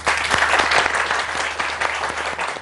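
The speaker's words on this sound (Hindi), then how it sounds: "उन दोनों के लिए बहुत सारी तालियां।" Applause for two sisters on a TV morning show: dense, steady clapping from a studio audience, loud and close, lasting the whole stretch without a break.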